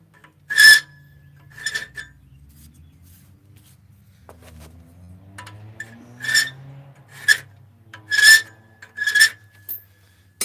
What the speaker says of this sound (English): Filing doesn't take too awful long.